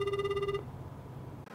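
A telephone ringback tone sounds while a call is placed, a steady electronic ring that stops after about half a second, followed by quiet line noise and a brief click at the end.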